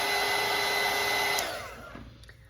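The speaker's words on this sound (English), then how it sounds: "So I'm going to hit my dryer up." A hair dryer blows steadily at close range on wet watercolour paint, a loud even whir with a whine that cuts off and winds down near the end, no voices.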